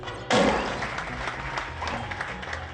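Canned applause from the video game Escape Plan, set to monochrome early-animation visuals with a classical score: a burst of dense clapping starts abruptly and carries on steadily at a moderate level to the end.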